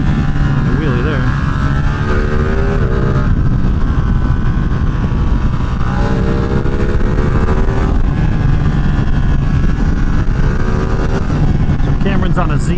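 A 2024 Ducati Streetfighter V2 riding along Route 28 Hellbender, its engine droning steadily with rising and falling revs and gear changes, steady wind noise throughout.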